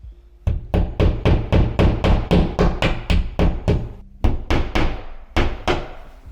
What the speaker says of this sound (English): So I like to hammer these in halfway and then screw the remainder.